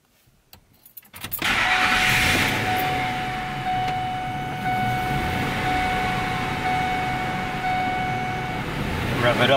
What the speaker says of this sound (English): we're going to create an unbalance by putting a hose clamp on the drive shaft and see if our HS402W bow can detect it